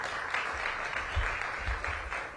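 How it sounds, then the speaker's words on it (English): Audience applause at a Washington, D.C. mayoral event honoring a student, a steady wash of clapping with low rumble beneath, moderately loud and continuous without talk. "Give Tavani a big round of applause"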